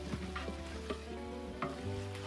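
Onions sauté in a pan with leftover lamb marinade spices, a close, steady sizzle with light scraping and stirring noises and a few sharper crackles, no talking.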